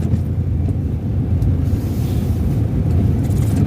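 A car drives through rainy morning traffic, giving a steady, close rumble of engine and road noise with wind buffeting and no speech.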